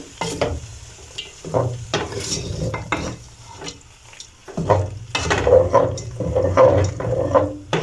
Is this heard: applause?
no